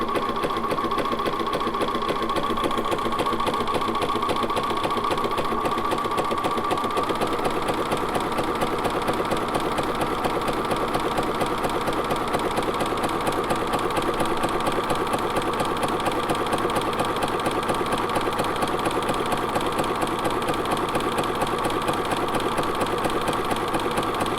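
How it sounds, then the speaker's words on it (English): A Bernina sewing machine fitted with a tailor tack foot stitches continuously, a steady close mechanical whir with a fast even rhythm, alone without talk. "So all we have to do is start stitching."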